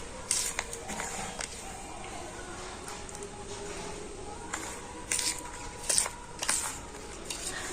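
A homemade glucose powder mixture is stirred with lemon juice, producing soft wet squishing and scraping strokes in a bowl, with a few louder bursts near the end.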